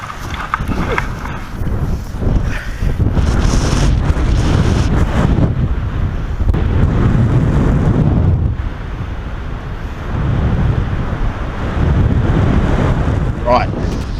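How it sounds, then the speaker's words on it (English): Strong, gusting wind roaring across the microphone while paragliding, a loud continuous buffeting that swells and eases as the direction shifts. "The wind's coming on, it's going off, the direction's changing a bit."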